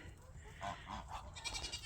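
Goats on a homestead farm bleat a few times in quick succession in a pen shared with geese, faint and somewhat distant over low background noise.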